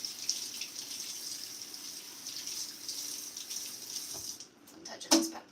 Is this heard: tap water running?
yes